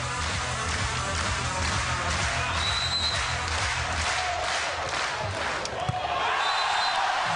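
Spectators at an indoor volleyball match roar and cheer from their feet, with music and an announcer mixed into the steady, loud crowd wash.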